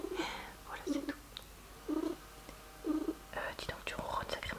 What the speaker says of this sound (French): Dis donc, tu ronronnes sacrément bizarrement toi là.